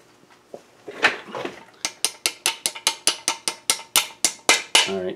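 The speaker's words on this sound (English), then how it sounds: "I'm going to drop that BB right in here right now. I'll push it in with this rod." A rod pushes a BB into a wooden whirligig turkey, producing a rapid, regular run of about a dozen sharp clicking taps, close by, after a few softer scrapes.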